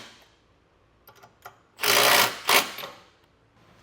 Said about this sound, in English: we'll come back through with an 18mm socket and snug down our hardware.